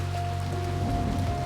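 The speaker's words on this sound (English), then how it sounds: "my vision becomes obscured by large drops of rain that quickly begin forming puddles on my carpet, blown in by the wind" Steady wind-blown rain in the visual novel One, a constant close hiss of heavy drops falling without pause, with a low hum held underneath throughout.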